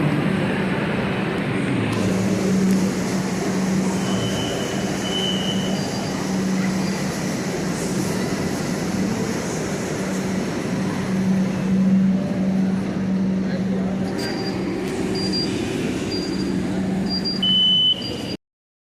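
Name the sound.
metro train at station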